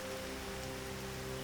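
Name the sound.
tropical rain shower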